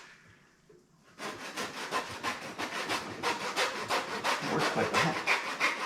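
An old $10 hardback hand saw, never sharpened, cuts through a pig carcass and bone in steady, close back-and-forth strokes after a quiet start, with a brief voice heard near the beginning.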